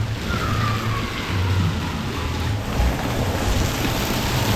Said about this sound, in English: All right, I'm going down the kiddie slide at Splash Harbor.